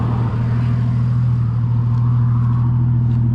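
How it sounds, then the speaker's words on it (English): Exhaust of a Ford FG XR Turbo car, a steady low idle rumble with a constant deep drone, close and loud, with no talk. "But I also wanted to see if I can get some exhaust sounds on my car."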